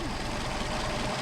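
A Mercedes 190SL engine on Solex PHH44 carburetors runs at a steady, close, unbroken idle, with a thick low drone that fills the whole moment.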